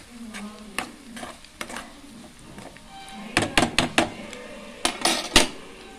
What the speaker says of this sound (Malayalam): ഇപ്പൊ തേങ്ങ വറുത്തെടുക്കുന്നത്.